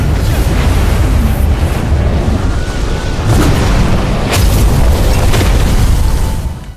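A massive, continuous roaring blast rumbles loudly for several seconds with crackling bursts, then fades at the end.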